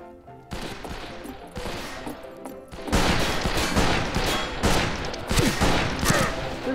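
Repeated gunshots in the Fistful of Frags video game, a loud ragged volley of cracking shots that starts sparse and builds into dense overlapping fire.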